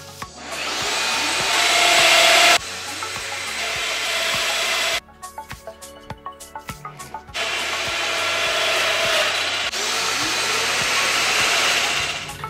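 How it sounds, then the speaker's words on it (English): A Festool Domino XL 700 joiner cuts mortises for cabinet joinery in wood, sounding as loud, sustained motor whines in long bursts with a rougher, stuttering stretch between them, and no one talking. "I went with the Domino XL 700 joiner to do the joinery"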